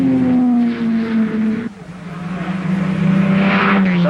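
A Lotus Elite race car passes on the circuit, its engine tone droning loudly, dipping briefly as it goes by, then returning with a rising, whining note.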